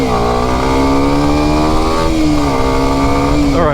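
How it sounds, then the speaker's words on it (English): A Kawasaki Ninja 125 motorcycle rides along country roads, its engine droning loud and close with steady revs, then a brief dip and a quick blip near the end. "let's take the little 125 Ninja out for a little ride here across these country roads"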